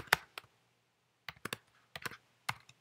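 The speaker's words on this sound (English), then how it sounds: "I can type on this" Keys on a Mac computer keyboard are tapped in short, sparse bursts, a few crisp clicks at a time with brief pauses between, close and quiet.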